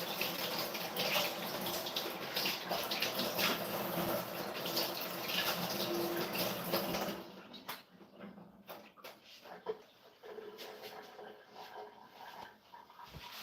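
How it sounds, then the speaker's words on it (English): Kitchen tap running while hands are washed, a steady close hiss of water for about seven seconds that then stops, followed by quieter clattering and handling. "I gotta wash my hands again."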